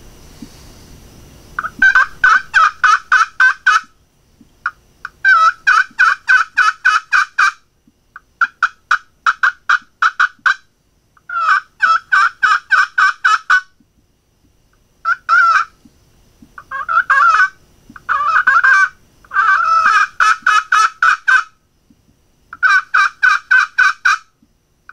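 A turkey call is worked with a homemade wooden hickory striker, producing close, clear series of rapid turkey yelps in about ten rhythmic bursts separated by short pauses, with no talking.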